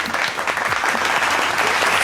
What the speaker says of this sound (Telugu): బిగ్ అప్లాజ్ అండి.